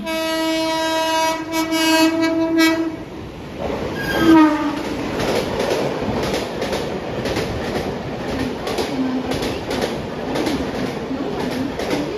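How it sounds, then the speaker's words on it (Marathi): A 15-car Mumbai fast local bound for Dadar pulls into Kurla station at night, sounding a long, loud multi-tone horn before its wheels and carriages rumble and clatter steadily past close by. "9:22 की दादर जाने वाली 15 डिब्बों की तेज लोकल थोड़े ही समय में प्लेटफॉर्म क्रमांक 6 पर आ रही है।"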